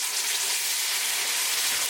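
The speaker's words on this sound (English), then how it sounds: "Cook tomato sauce along with tadka for 1 minute" Tomato sauce bubbling and sizzling with a tadka of spices in a pan for a halibut fish curry, a dense even sizzle held steady for a couple of seconds with no voices.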